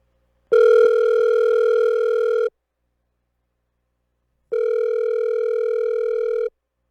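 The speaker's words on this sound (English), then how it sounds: "I'm calling your line right now." Outgoing call ringback tone on a telephone line: two long, loud, steady electronic rings separated by a silent gap, clear and alone with no talking.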